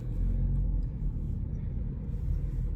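A car rolls slowly around a store parking lot, its steady low engine rumble and road hum filling the cabin without a break and no voices.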